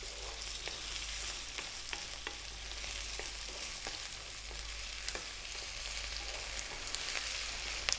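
Potatoes for a chickpea curry fry over above-medium heat in a steady sizzle, with soft scraping and occasional clicks as they are stirred, and no voices.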